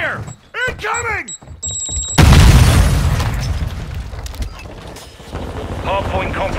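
A grenade blast in Call of Duty: Modern Warfare 2 Hardpoint mode, a sudden loud boom rolling into a long rumbling decay, preceded and followed by shouted in-game voice lines and background battle noise.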